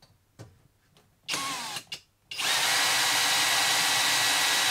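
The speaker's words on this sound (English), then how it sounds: "So that bottom one's drilled," A power drill bores a hole to fit a bath shower screen: a few short stuttering bursts, then a loud, sustained whine that runs to the end, close by with no speech.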